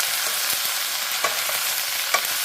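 Zucchini stir-fries in a pan, a dense, even sizzle with a few faint taps of a utensil stirring the vegetables.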